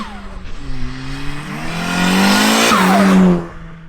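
A turbocharged Toyota Starlet with a TD04 hybrid turbo accelerates hard from close by. The engine note climbs steadily and grows louder, drops briefly at a gear change, then pulls again before easing off. No one speaks.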